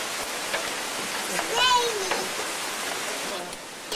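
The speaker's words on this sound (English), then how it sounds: "It's raining." Steady rain falls outdoors beside a jacuzzi, a soft hiss of drops on surfaces filling the background, with a brief bird-like chirp partway through and voices talking nearby.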